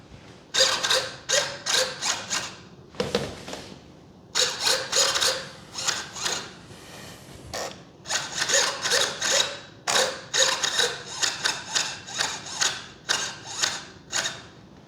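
A grinding elevator servo on an Avios Extra NG 3D RC plane with a 1600mm wingspan gives repeated bursts of harsh whirring gear chatter, close and mechanical, separated by short pauses.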